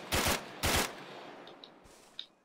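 Automatic gunfire in the ArmA 3 video game: two loud, dense bursts of rapid shots in quick succession, followed by a few faint, distant single cracks.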